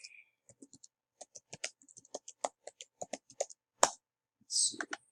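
Keys tapped on a computer keyboard in short irregular bursts of crisp clicks, close by and fairly quiet, with brief pauses and a couple of louder clacks toward the end.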